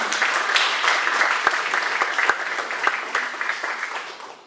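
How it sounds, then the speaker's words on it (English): Audience applause at a District 1 candidate forum, steady clapping from a modest crowd filling the room for several seconds before starting to fade. "Everyone clap it up for that."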